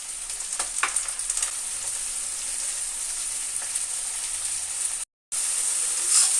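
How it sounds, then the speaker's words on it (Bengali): Spice paste with green chilli, bay leaves and chopped tomato sizzles steadily in hot oil in a pan, a bright, continuous hiss with a few faint stirring scrapes early on, close up, with a brief dropout near the end. "দিয়ে মশলাটাকে খুব ভালো করে কষিয়ে নেব।"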